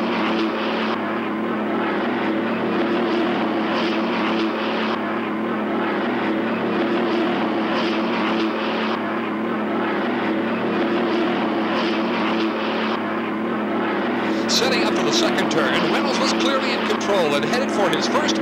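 Hydroplane racing boats roar down the back straightaway of a boat race, a loud steady engine drone lasting the whole stretch with a commentator talking over it.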